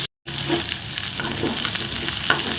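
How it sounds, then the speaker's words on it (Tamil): Potatoes fry and are stirred in a pan, with a dense close sizzle and scraping spoon strokes after a brief silent gap at the start. "உருளைக்கிழங்கு நல்லா வேகட்டும்"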